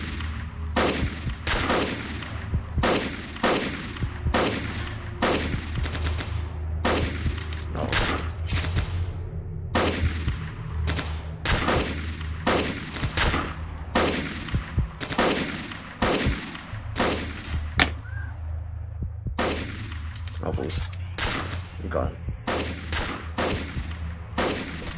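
A 30 caliber gun in a Flash shooter game fires continuous, rapid bursts of sharp, loud shots. Brief gaps break the volleys over a steady low background drone.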